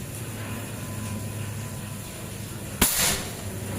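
A folding custom PCP air rifle with a 40 cm stainless barrel and 3000 psi charge fires once at a metal target outdoors, a sharp crack near the end over steady background hum.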